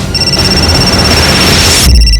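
Loud electronic ringing with a sustained high tone over a busy, noisy background, ending abruptly in a sudden low thump.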